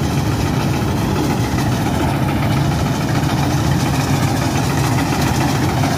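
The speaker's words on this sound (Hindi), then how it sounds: "इस प्रकार से आवाज करती है, क्योंकि इसमें 6 सिलेंडर इंजन होता है" A six-cylinder engine, like those found in trucks, runs at a steady idle close by, giving a continuous low rumble with faint vibration and no breaks or changes in pace.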